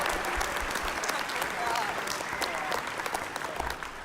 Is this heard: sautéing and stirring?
no